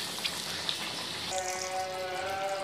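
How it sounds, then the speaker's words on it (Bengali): A pot of potato and fish curry simmering at a steady boil, a dense bubbling and sputtering wash near the mic, with a lid set down partway through and a faint ringing tone lingering under the bubbling afterwards. "ভিউয়ার্স দেখুন বলক চলে এসেছে"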